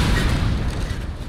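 A bomb explosion in the video game Keep Talking and Nobody Explodes, heard as a dense, loud, rumbling boom that decays over about a second with no voices over it.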